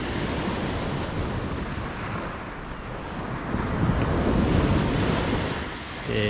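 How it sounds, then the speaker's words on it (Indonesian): Ocean waves wash onto Tunamaya beach at Desaru, a steady, close surf roar with wind buffeting the microphone, swelling louder toward the end. "Ombak yang sahdu"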